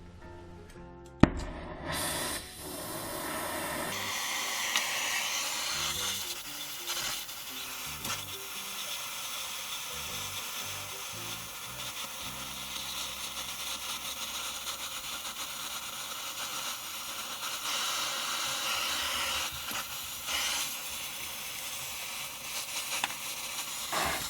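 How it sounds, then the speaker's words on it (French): Black steel tube being welded near a bench vise: a sharp click, then a steady, dense crackling hiss that runs on for about twenty seconds with slight swells, close and fairly loud, with no voices. "éviter de souder trop près de l'étau parce que sinon toute la chaleur va aller dans l'étau"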